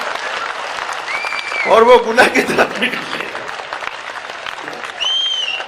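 A short burst of audience clapping at a Hindi humorous poetry gathering in Bhopal rises briefly in the middle, with a voice reciting before and after it.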